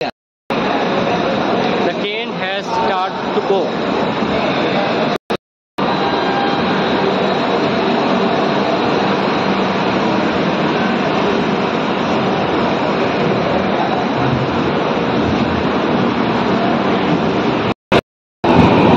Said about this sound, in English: the train has left now